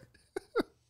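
A short throat clearing in two bursts, a small one then a louder rasping one, close and alone amid quiet room noise.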